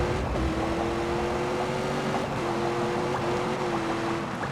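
A Hennessy-tuned Camaro with a 1,000 hp engine in The Grand Tour Game gives a steady, droning engine note that holds a sustained tone with slight pitch shifts throughout, constant and fairly loud.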